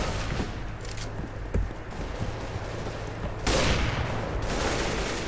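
Rapid automatic rifle fire, including an AK-47, in a Counter-Strike: Global Offensive deathmatch, sounding as dense, continuous bursts with sharper single cracks, loud and steady throughout.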